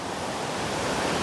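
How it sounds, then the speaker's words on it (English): Steady, roaring wind gusts buffet the microphone outdoors at a fishing match, a continuous rushing noise with no pauses. "It's a bit windy, so I do apologise if you can't really hear me."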